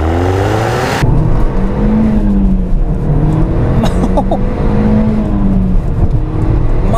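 A turbocharged Audi S3 accelerates hard from a standing launch, its loud, close engine note climbing steadily in pitch through the revs with a sharp onset at the start.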